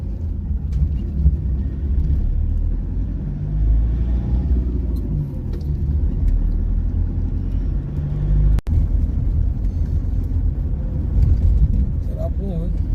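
A car drives a road with many speed breakers near the Bhimashankar ghat, giving a steady, close, low engine and road rumble for several seconds with one sharp jolt partway through.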